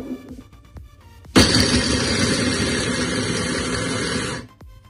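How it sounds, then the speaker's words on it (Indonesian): An electric blender chops garlic and candlenuts for a garlic relish, its motor roaring up abruptly and whirring steadily and loud for about three seconds before cutting off. "jadi pakai blender aja"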